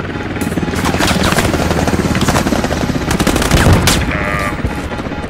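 Loud, sustained machine-gun bursts and gunfire crackle over a helicopter's steady rotor drone during intense combat in the military shooter game Squad, with occasional booms and faint shouting.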